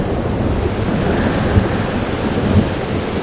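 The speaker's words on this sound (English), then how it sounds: "Weather's worse than I remember it. Storm followed me." Storm weather in the video game Life Is Strange: Double Exposure, a steady roar of wind and crashing waves with rumbling thunder, loud and continuous throughout.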